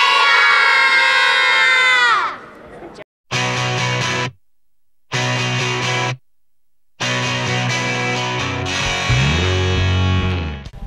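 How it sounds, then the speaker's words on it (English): A group of children screams a holiday greeting in unison, loud and distorted. The shout is cut into several bursts separated by sudden silences, and the crowd swells into cheering at the end. "we're gonna all scream Chag Sameach"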